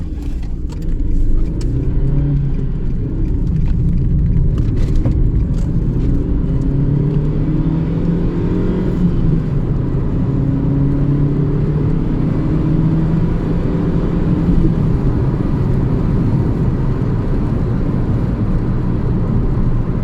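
A Nissan Micra K12 1.2 engine revs hard and steadily for a long stretch, loud and close, the pitch rising and holding with no one talking.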